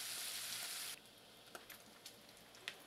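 Bacon frying in a hot skillet, a loud, steady hiss that drops off sharply after the first second, followed by quieter sizzling with a few scattered pops and crackles.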